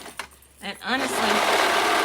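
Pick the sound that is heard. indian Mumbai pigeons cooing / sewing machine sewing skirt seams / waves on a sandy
sewing machine sewing skirt seams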